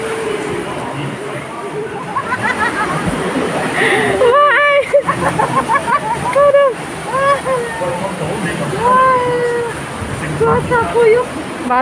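Water splashes and sprays across riders on an artificial whitewater rafting ride, a steady rushing wash filling the scene while people close by shout, scream and laugh over it.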